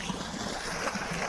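Irrigation water runs through the furrows of a sugarcane field in summer, a steady close broadband rush mixed with wind-like noise, continuous and fairly soft, with no talking.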